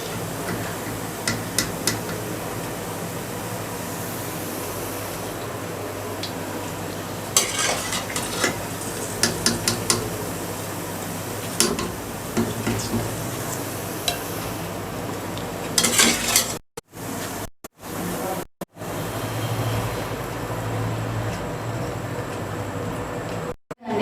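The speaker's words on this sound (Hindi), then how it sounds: "हमने ऑयल में से गुलाब निकाल के चाशनी में रख दिए हैं" Gulab jamun lifted from hot frying oil and dropped into sugar syrup, with a steady sizzle under scattered clinks of a metal utensil against the pan, then brief silent gaps.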